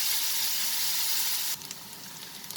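Onions and dried red chilies sautéing in a pan for prawn curry, a loud broad hiss of frying that drops off sharply partway through to a quieter crackle, heard close with no talking.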